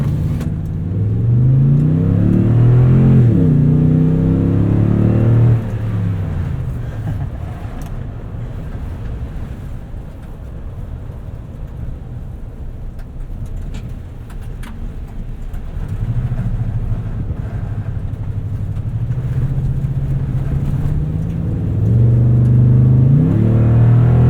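A 2020 Toyota Tundra TRD Pro CrewMax with a 5.7L V8 drives in four-high over leftover snow and ice, its engine rumbling steadily from inside the cab and swelling as it accelerates.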